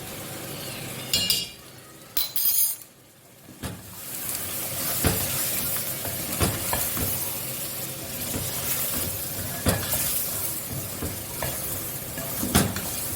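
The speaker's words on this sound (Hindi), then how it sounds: "अब मैं आपके सामने 1 चम्मच नेशनल का कोरमा मसाला इसमें ऐड करूँगी।" A spoon adds a spoonful of korma masala to a frying pan of chicken korma. A few clinks of metal against the pan come first, then steady frying sizzle with repeated stirring and scraping, and no talk.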